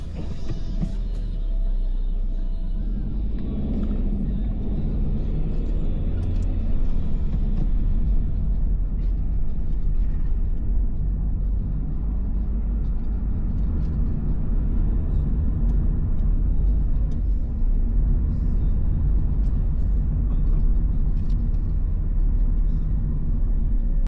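A car's engine rumbles steadily and fairly loud from inside the vehicle during a driving practice session on a quiet straight road, low and continuous for the whole stretch, with no one talking.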